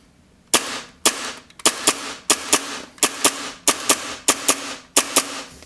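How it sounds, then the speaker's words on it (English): Tokyo Marui Hi-Capa airsoft pistol fired in a shooting test, about a dozen sharp loud cracks at a steady semi-automatic pace, each with a brief ringing tail, close by. "let's do a shooting test just to show you guys"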